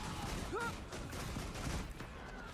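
Pistol fire in the online game Guild Wars 2: a steady stream of rapid, crackling shots and impacts amid dense combat effects, with a brief rising chime mid-way.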